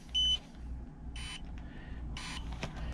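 Short electronic beeps from an RV tire pressure monitoring system sound in separate bursts, a brief high tone followed by two longer ones, over a low steady hum.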